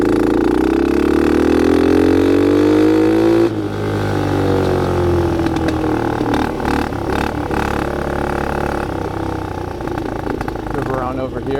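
Dirt bike ridden through snow, its engine revving and rising in pitch up close, then chugging and clattering at lower revs, loud throughout with a rider's voice faintly underneath.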